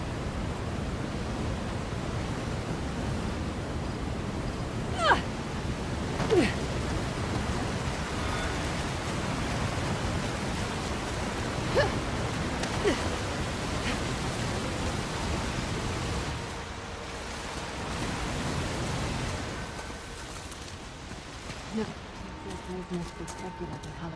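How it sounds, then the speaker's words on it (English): Waterfalls pour beside a ledge in Uncharted: The Lost Legacy as a broad, steady rushing roar, with a few sharp clicks and knocks over it before it softens near the end. "That ledge with waterfalls."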